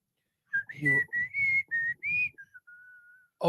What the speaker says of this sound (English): What song was I whistling?